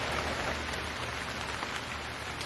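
Steady early-morning rain in the mountains of Ladakh between Manali and Jispa, with a dense, even patter of drops on surfaces close by and no voices.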